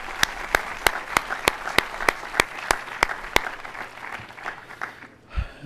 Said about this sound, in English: So a real hearty round of applause of thanks to the work they've done.